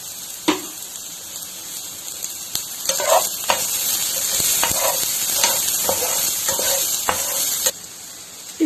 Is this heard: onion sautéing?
yes